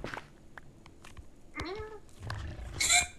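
During an online Minecraft game session with friends, a person imitates a cat with a single short, rising-then-falling meow. Scattered clicks, thumps and game noises sit around it.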